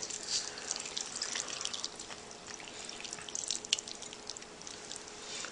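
Water runs and splashes into a container while cooking stuffed squash, a continuous trickling stream with small drips, fairly quiet and close.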